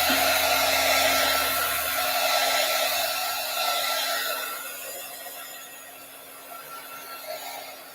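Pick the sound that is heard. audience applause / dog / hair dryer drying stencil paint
hair dryer drying stencil paint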